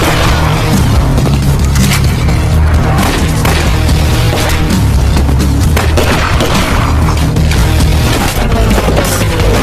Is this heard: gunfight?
yes